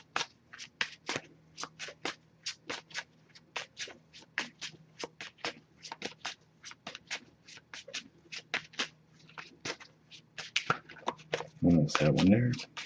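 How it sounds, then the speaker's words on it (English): A Messages of Love oracle card deck is shuffled by hand in a steady run of crisp, rapid riffling bursts, close and fairly quiet, ending with a brief louder rustle of cards at the end. "I'm going to give this a few shuffles,"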